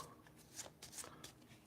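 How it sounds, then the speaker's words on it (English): Close, quiet hand shuffle of playing cards for the Regicide card game, a few short papery riffles in quick succession. "Shuffle up the queens."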